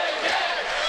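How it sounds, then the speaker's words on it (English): A college ice hockey crowd at a Georgia Tech versus Florida State game roars in a steady, dense wash of cheering and yelling from a packed arena. "Crowd really getting into this one."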